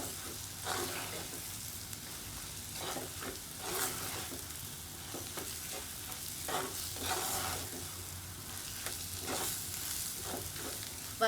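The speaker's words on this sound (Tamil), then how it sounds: "மசாலா எல்லாம் நல்லா வதங்கிட்டது" Masala sizzling steadily in a pan for mutton curry, with repeated scraping stirs every second or so, close and clear, no talking.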